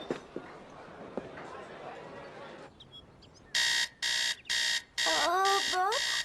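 A cartoon alarm clock rings in loud, regular bursts, starting after a stretch of quiet talk and background noise, while a voice speaks over the last ringing bursts.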